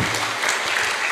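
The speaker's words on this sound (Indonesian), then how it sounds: "Tepuk tangan dong." Loud, dense applause from a school audience of students in a high school hall in Sumenep, Indonesia, a steady wash of clapping sustained for over a second without speech.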